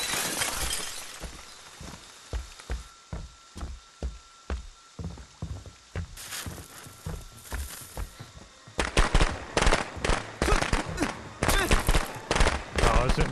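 Rapid series of sharp cracking bangs from firecrackers in the video game Friday the 13th: The Game, evenly spaced at first, then a dense burst of louder pops crowding together toward the end.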